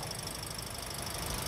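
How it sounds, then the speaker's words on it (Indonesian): The engine of a 2018 Toyota Calya G automatic runs steadily at idle, a constant close hum with a busy mechanical rattle underneath, no voices over it. "Ini posisi mesin hidup."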